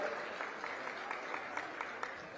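A crowd claps at a welcoming ceremony, greeting a guest on stage at the Surguja Olympics opening in Ambikapur. The applause is steady, faint and distant throughout, with no voices over it.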